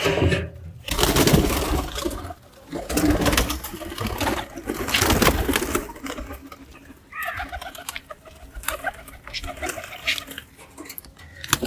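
Domestic pigeons just released from their loft coo and flutter close by, with cooing and clucking calls through most of the stretch, some wingbeats and rustling, and a little background noise.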